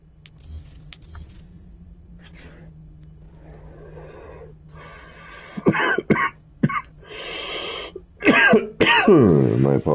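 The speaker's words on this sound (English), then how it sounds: "Gotta cough to get out, baby." A person coughs several times in sharp, close bursts inside a car, following a quiet stretch with a low engine hum beneath.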